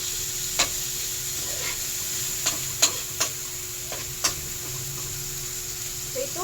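Food sizzles steadily in a frying pan as a utensil stirs it, giving a constant hiss broken by several sharp clinks and scrapes at irregular intervals, close and fairly quiet.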